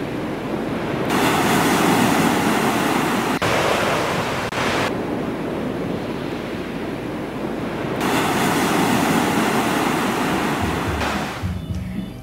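Sea surf washing onto the shore at Akkarai beach in Achuveli, Jaffna, amid stormy weather and seawater flooding low areas: a steady, loud broadband roar with surging swells and wind buffeting, no voices.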